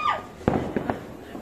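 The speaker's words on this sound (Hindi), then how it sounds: "लेक पे देखिए कितना अच्छा सा एक पटाखा फूटा है लेक के ऊपर जाके सीधा" Firecrackers bursting over a lake during Diwali celebrations: a whistling rise, then one sharp crack followed by two smaller pops, heard from a distance against quiet outdoor background.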